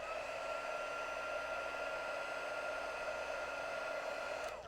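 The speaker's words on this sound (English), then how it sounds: "I'm having difficulty heat embossing." A heat embossing tool blows hot air in a constant, close whirring hiss with a steady motor whine, running alone until it cuts off at the end.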